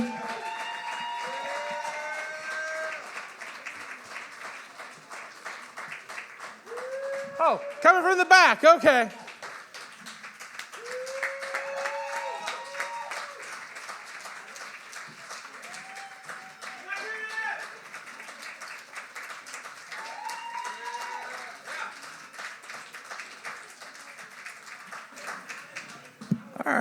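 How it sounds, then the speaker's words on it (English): Audience at a poetry slam claps for a poet walking up from the back, steady scattered applause running under an emcee's talk and a crowd voice, with one brief louder burst partway through. "Please give a huge round of applause to NOC"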